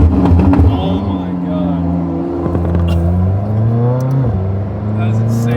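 A McLaren 600LT's engine revs hard from inside the cabin, loud and close, its tone climbing and falling through several pulls while people talk over it.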